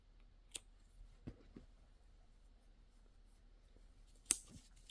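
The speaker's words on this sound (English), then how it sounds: "you can cut off this bobbin" Scissors snip a teal yarn strand off a bobbin while working a crocheted Christmas advent calendar blanket, a few small, quiet clicks and snips spaced out in near silence.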